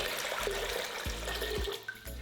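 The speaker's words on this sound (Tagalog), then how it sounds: "Naglalagay lang ako ng tubig." Water pours into a pressure cooker in a home kitchen while cooking bagnet, giving a close, soft gurgling splash with a few brief bubbling bursts.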